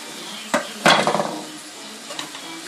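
Curry leaves and coriander frying in a pan for a horse gram chutney: a quiet background sizzle with a couple of sharp clinks and a short burst of stirring scrapes, no talk.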